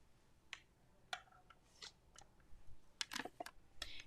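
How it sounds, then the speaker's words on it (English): Scissors snip through paper to cut out a large butterfly shape for a handmade birthday shaker card, giving a handful of sharp, close, irregularly spaced cuts over a quiet background. "So we're actually going to cut out the big butterfly."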